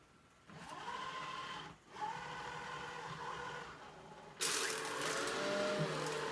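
An AiiBot V9S robot vacuum cleaner hums quietly after starting, with a brief dip partway and a louder, brighter whirring as it moves onto a new surface.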